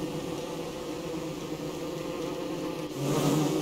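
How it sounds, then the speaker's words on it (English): Bees buzzing in the video game Don't Starve, a constant droning hum that swells louder near the end, with no speech over it. "Bees! They're everywhere!"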